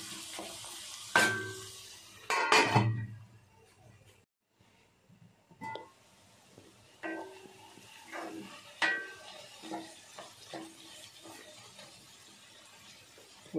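Bitter gourd thokku with powdered jaggery is stirred in a pan, with a few loud metallic scrapes and clanks early on, then quieter intermittent stirring over a faint sizzle.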